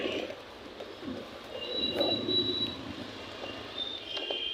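Pigeons coo at a busy pigeon market in Hasnabad, Bangladesh. The soft, throaty calls repeat close by over a murmuring crowd, with a few higher chirps mixed in.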